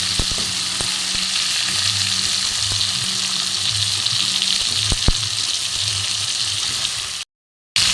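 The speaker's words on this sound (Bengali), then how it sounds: "এখানে কেটে রাখা আলুগুলো সাথে আমি ভেজে নেবো।" Cut potatoes frying in a pan with green chillies for a cauliflower curry, giving loud, close, continuous sizzling broken by occasional spatula clinks and scrapes, then a short silent gap near the end.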